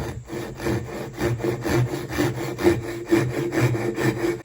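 Rhythmic hand saw strokes cutting through wood held in a woodworking vise, about two rasping pushes per second, close and steady with no talking.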